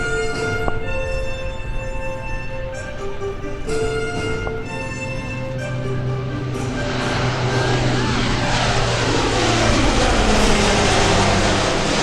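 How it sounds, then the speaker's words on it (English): Lockheed C-130J Super Hercules turboprop rolling for takeoff at an airshow at Quonset, Rhode Island, a steady loud propeller and engine drone that builds toward the end, with an announcer speaking over it. "And now on takeoff roll, ladies and gentlemen, your C-130J from right here in Rhode Island"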